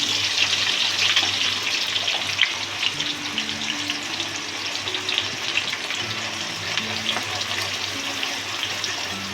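Onions fry in oil for biryani, a steady, moderate sizzling hiss that carries on throughout with faint intermittent clatter and a low background hum.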